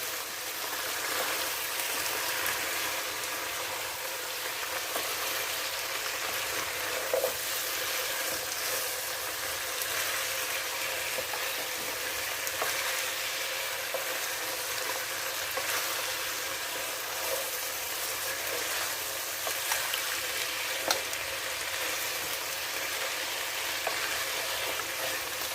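Onions for chilli chicken frying in a pan, a dense continuous crackling sizzle holding steady throughout, with occasional faint stirring knocks.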